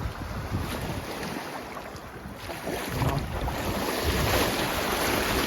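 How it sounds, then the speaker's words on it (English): Wind and breaking waves on a Lake Michigan beach, a steady broadband wash of surf with gusty wind noise buffeting the microphone, building slightly louder toward the end, with no talking. "the waves were picking up on me"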